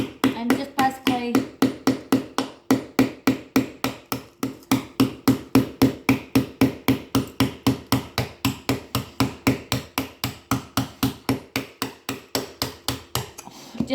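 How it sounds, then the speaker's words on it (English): Rapid, steady chipping with a corner bit angled into loose material, dozens of sharp close strikes in an even fast rhythm, loud and continuous throughout. "just put the corner bit in on an angle and just start chipping away"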